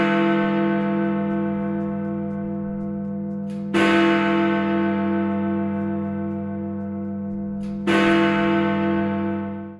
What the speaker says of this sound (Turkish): Big Ben Kulesi yaklaşık 5 senelik bir tadilatın ardından yeniden hizmete girdi ve çanları yeniden çaldı